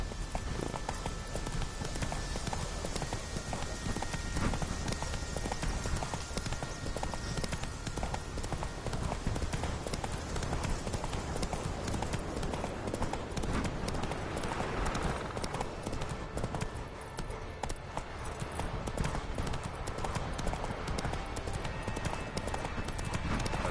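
In a video game, the horse Roach gallops with a rapid, steady patter of hooves that runs throughout at moderate loudness, with a dense mix of game sound around it.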